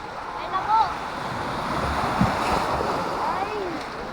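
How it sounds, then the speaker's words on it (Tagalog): Strong sea waves surge and wash beneath a bridge where boats are tied up, a continuous rushing surf with wind noise and occasional splashes, while people call out faintly in the background. "At ngayon malalakas pa rin ang alon."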